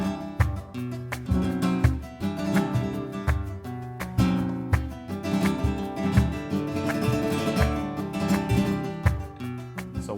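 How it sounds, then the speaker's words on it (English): Flamenco guitar plays i-a-i rasgueado, a two-finger strumming technique, in rapid, continuous flurries of strums with sharp percussive attacks and a driving rhythm. Loud and close with no voices. "the I-A-I rasgueado sounds like this"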